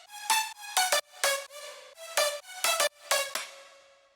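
A bright, buzzy future bounce synth lead plays a short bouncy melody of separate notes with a shuffled rhythm, sounding alone and clear.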